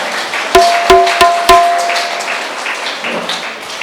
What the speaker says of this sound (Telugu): వారికి, వారి బృందానికి మరొకసారి గట్టిగా చప్పట్లు కొడుతూ మన యొక్క ఆనందాన్ని వ్యక్తం చేసుకుందాం